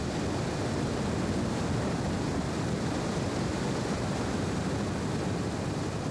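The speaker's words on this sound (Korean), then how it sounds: "절벽에 가까이 갈 수 있는 것은 밀려오는 파도뿐" Ocean waves surge against steep sea cliffs on a remote coast in the Shark Bay region of Australia, a steady, dense roar of surf and wind with no distinct breaks, heard alone without voices.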